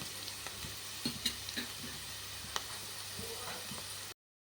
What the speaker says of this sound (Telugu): ఆనియన్స్ మంచిగా వేగుతున్నాయండి